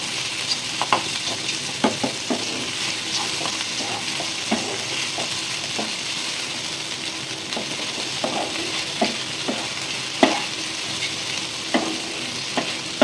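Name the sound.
stirring egg into pasta in a pan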